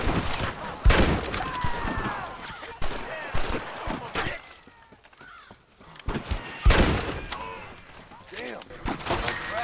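Rifle gunfire from an Evans repeater and a bolt-action rifle in a Red Dead Redemption shootout. Repeated loud close shots crack out in bursts with ringing echoes, mixed with quieter stretches and voices talking.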